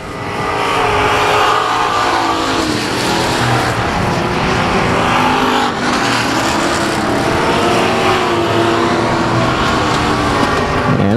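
Race cars roar around South Texas Speedway, a loud continuous wash of engine noise with cars passing and revving in close succession, no talk.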